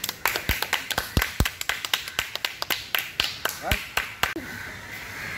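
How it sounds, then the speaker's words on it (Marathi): About twenty evenly spaced, sharp, close claps ring out at a brisk steady tempo, as at a village Dahi Handi Gopalkala gathering. Then they stop, leaving a faint background murmur. "सगळ्यांनी टाळी वाजवावे।"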